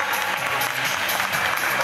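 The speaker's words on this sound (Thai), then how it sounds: "ขอเสียงปรบมือ" A crowd gives steady, dense applause at the opening of a classic car exhibition in Thailand, welcoming the president of the Mercedes-Benz club, with close, even clapping and no voices.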